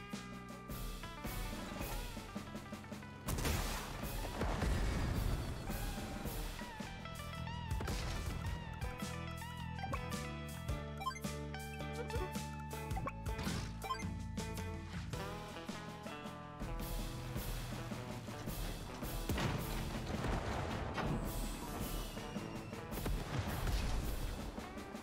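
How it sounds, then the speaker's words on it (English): Missiles attacking bombers in the Advance Wars video game, with repeated booming explosions and crashing impacts layered over busy game music for the whole stretch, with no talking. "Alright, now I can take out those bombers with the missiles."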